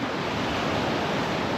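Sea waves and strong wind at North East Point in the Seychelles, a loud, continuous surf roar with wind buffeting the microphone, no voices heard.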